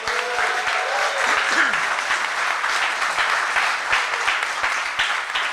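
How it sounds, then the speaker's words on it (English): An investor summit audience claps steadily for several seconds, a dense, even patter of many hands in a large room, with faint voices and a few whoops mixed in. "by show of applause, let us know"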